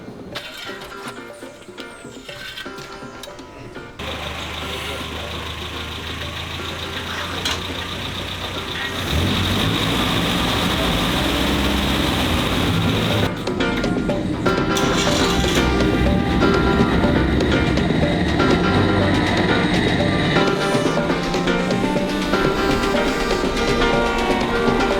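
A motorcycle engine powers a cable cart across a valley in a cloud forest, droning steadily and loudly as the cart travels, with a rising, thicker engine note partway through.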